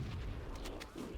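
Grenade explosions in the Halo video game, a few sharp bursts with booming low-end rumble over a continuous din of in-game gunfire and action, all dense and loud throughout.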